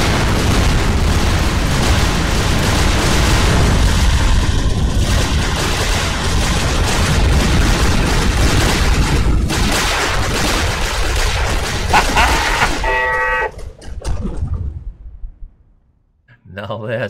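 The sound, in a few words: concentrated gunfire and explosions in a video game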